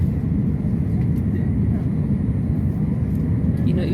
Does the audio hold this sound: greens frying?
no